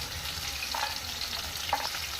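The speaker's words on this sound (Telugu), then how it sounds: "ఒక ప్యాన్ పెట్టి మనం పల్లీలు అవి కూడా వేయించుకుందామండి." Peanuts and cashews roasting in a pan, a light steady sizzle and dry rattle with a couple of brief louder stirring scrapes, close and alone with no talk.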